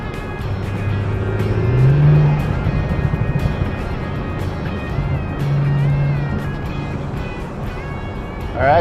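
An Audi RS5 Sportback climbs uphill through the hills, engine droning steadily inside the cabin and rising in pitch as it accelerates through gears, with someone talking over it.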